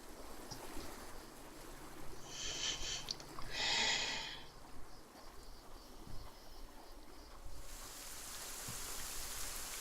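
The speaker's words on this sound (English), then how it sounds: "And it's raining." Rain falls steadily in the video game Saurian, a soft continuous hiss with a couple of brief brighter bursts standing out near the middle.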